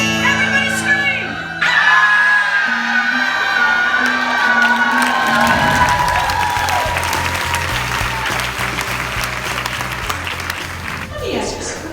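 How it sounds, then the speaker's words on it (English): A large live audience at a speaking event screams, cheers and applauds loudly, a dense roar of whoops and clapping that swells and then continues steadily to the end. "Everybody scream!"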